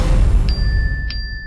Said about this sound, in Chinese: 谁的电话响了？